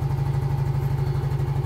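A small engine idles steadily with a fast, even low thrum and a faint whine above it, running close and alone without a break, during a test of a reconditioned battery.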